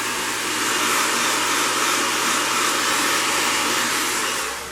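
A heat gun blows on thick faux crocodile upholstery fabric, making a loud steady whooshing roar close by that runs the whole time, with no talking.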